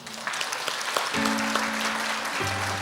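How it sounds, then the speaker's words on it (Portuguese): Church congregation at a sermon gives a round of applause, a full, continuous patter of many hands filling the room, steady and moderately loud, with a low sustained tone entering partway through. "Uma salva de palmas para a IA."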